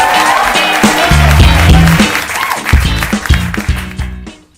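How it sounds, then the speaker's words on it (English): An audience at a live roast event in Amsterdam applauds warmly and steadily, with loud rhythmic walk-on music playing underneath; the clapping fades out near the end. "Can we build up a nice, warm Amsterdam applause, everybody, for Adobe Experience Manager?"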